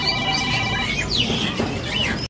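Two pairs of caged canaries at a bird market give bright, close chirps and quick rising and falling twitters, repeating over a steady background murmur.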